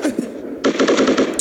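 An AK rifle fires in a video game, a short burst then a rapid automatic stream of about eight sharp shots in quick rhythm, loud and close with no talk over it.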